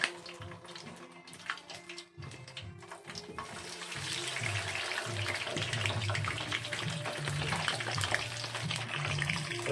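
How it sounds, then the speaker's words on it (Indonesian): Free-range chicken feet sizzle and crackle in hot oil, the frying growing louder and busier after a few seconds, with scattered pops close by. "Kita goreng dulu cekernya."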